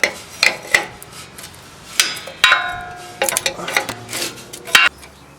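Metal wrench working a 19mm bolt on a bracket under a Dodge Ram air bag, a series of sharp clanks and ratcheting scrapes in irregular bursts, close by with brief pauses between.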